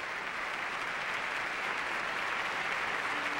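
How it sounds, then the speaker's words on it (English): An audience and chorus applaud at a 1992 Rossini gala, a dense, even wash of clapping that stays steady throughout and sounds fairly distant and soft. "recalled by the applause of the audience and the chorus"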